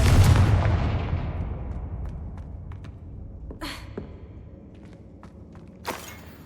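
A Confringo fire spell exploding in Hogwarts Legacy: one loud close blast that rumbles and fades, followed by scattered small pops and a second sharper burst near the end.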